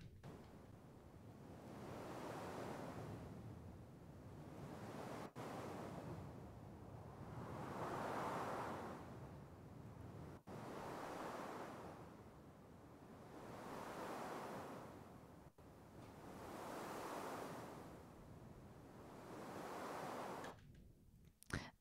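Synthesized sea waves built from filtered noise in Studio One, swelling and receding in slow regular surges about every five seconds, with hissy splash highs, alone and fairly quiet.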